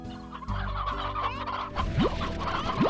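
Chickens cluck repeatedly in the Slime Rancher video game, a steady stream of close, busy fowl calls over a low game ambience, with two quick rising synthetic sweeps near the end.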